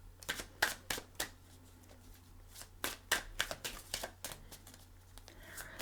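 Tarot cards being shuffled by hand on a tabletop during a reading, giving a run of quick crisp riffles and snaps in irregular bursts, close and fairly quiet.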